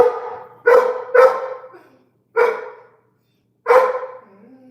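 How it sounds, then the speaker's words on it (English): Several dogs barking close and loud indoors: four sharp barks, the first two coming quickly together, then a pause, a single bark, and after another gap a final bark, with silence between. "I'm babysitting the dogs, so that's what's going on right now."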